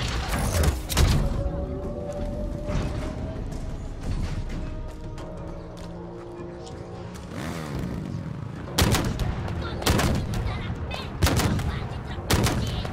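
Gunfire in the Halo Infinite campaign on Xbox Series X: several sharp loud bursts and shots, clustered near the start and toward the end, with a quieter stretch of game ambience between.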